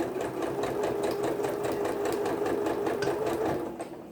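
A home sewing machine runs steadily, stitching a quilt block with a fast, even whir and rapid needle ticking for several seconds before easing off at the end.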